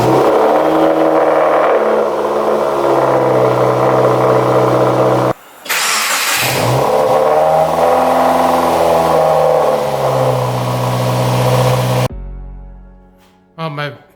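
A 2015-2021 Subaru WRX with a Nameless axle-back exhaust revs loudly, rising and falling in deep throaty bursts, with a brief cutout midway and quieter idling at the end.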